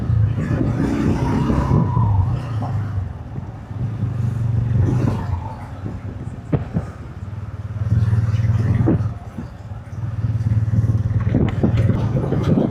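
A TVS Ronin motorcycle sets off at the start of a group ride, its engine droning steadily and swelling in repeated surges, loud and close, with brief dips between the pulls.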